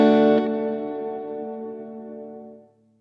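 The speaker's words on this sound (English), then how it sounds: "in the heel position, it's quite roomy down to about a second." A single guitar chord processed through an EarthQuaker Devices Avalanche Run delay and reverb pedal, expression set to heel position, rings and fades over a couple of seconds, its reverb tail short and roomy before cutting to quiet.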